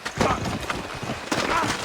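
Horse hooves clip-clop in the video game Red Dead Redemption, a quick run of irregular soft thuds with a busy background, and the rider's voice mixes in.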